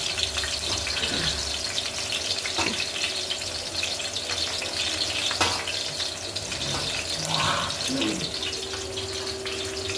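Onions and green chillies frying in a pan, a steady wash of sizzle across the whole stretch with a few faint clinks, with no voices over it.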